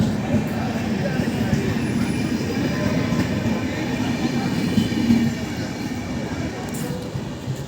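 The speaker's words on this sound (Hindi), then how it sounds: "हो गया अपनी ट्रेन का डिपार्चर, ये जा रही है जैसे कि आप देख सकते हो।" Passenger train pulling away from a station on a curving line, a steady loud rumble of wheels and wagons rolling past close by with faint squeals, continuous throughout with some background voices.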